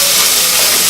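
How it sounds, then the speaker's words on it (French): Shallots sweating in a hot pan for a wild mushroom cream soup, giving a steady, loud, continuous sizzling hiss with no breaks, and no talking over it. "de faire colorer un petit peu mes échalotes, les faire suer comme on dit"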